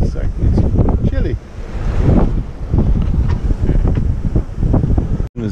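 Wind buffeting a small sailing boat at sea, loud gusty rumble hitting the microphone with splashing water beneath, constant and close throughout.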